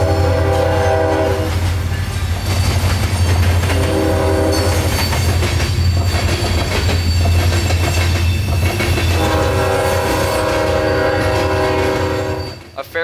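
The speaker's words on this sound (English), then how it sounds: "Here is Q442, the last train of our outing, nightly mixed freight from Yeoman Yard to Waycross," Freight train Q442, a short nightly mixed freight of loaded cement hoppers and empty auto racks, passes close by with loud, sustained horn blasts over rumbling, clattering wheels and squealing, fading away at the end.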